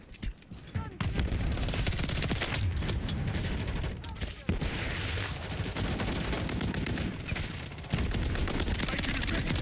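Sustained gunfire and bursts in a Modern Warfare III multiplayer match, loud and steady, with occasional heavier booms and game announcer voices underneath.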